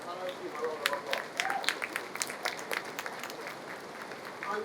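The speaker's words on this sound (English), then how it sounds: "a round of applause" An audience applauds at a food seminar in Jamaica, scattered clapping heard fairly faint and distant, with some talk mixed in.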